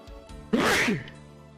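A single sharp sneeze bursts out at close range in the middle of an Ace Attorney Investigations: Miles Edgeworth courtroom scene, loud and abrupt, followed by quiet.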